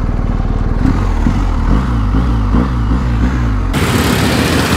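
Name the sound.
BMW 1250 GS motorcycle engine while parking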